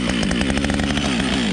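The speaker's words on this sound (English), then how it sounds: "so you guys can see on the third or fourth pull with choke, full choke, fires" A Husqvarna 555 chainsaw runs loud and close on full choke after a cold spell, its engine roaring with a rapid, rough pulsing throughout the short burst.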